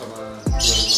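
A caged bird at a bird market kiosk gives a short squawking call, then brighter high chirps follow, close by, over a steady low background hum.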